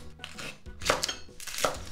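A knife slices through shishito peppers on a cutting board during Japanese home cooking, with a few crisp, separate cuts close up and no talking.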